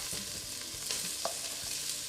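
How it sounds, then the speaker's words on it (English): Onions sizzle in hot oil in a soup pot on the stove, a steady close hiss with a few stirring knocks and scrapes, and no voices. "I'm just going to add in my onions."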